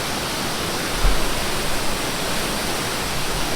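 Waterfall pouring into a rock pool in Negros, a steady loud broadband roar with no breaks, close by and alone without voices.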